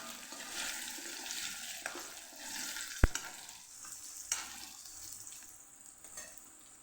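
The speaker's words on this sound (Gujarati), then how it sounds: "5 ચમચી જેટલી હિંગ, બટેકાને પહેલાં ઉમેરી દઈશું। થોડા આપણે સાતળી લઈશું પહેલાં।" Potatoes are sautéed in hot oil with asafoetida, giving a soft steady sizzle with scraping stirs and one sharp clink of a spoon against the pan.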